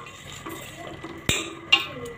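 Boiled dal being mashed and stirred in a metal cooking pot, soft wet scraping with a couple of sharper clanks of the spoon against the rim.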